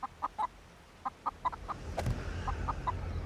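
Chickens cluck in a row of short, distinct calls inside chicken coops in the zombie survival game 7 Days to Die, with a low background hum and a sharper clatter near the middle.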